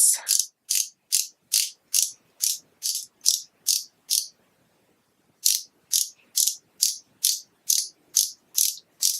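Sharp ratcheting clicks from a brand new makeup product being pumped to dispense, about ten evenly spaced clicks, a short pause, then another run of about ten, close and crisp.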